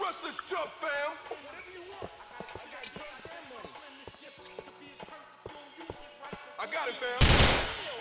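Uzi fire in GTA 4 gameplay, a run of sharp automatic bursts mixed with other game sounds and music, ending in a loud noisy blast near the close.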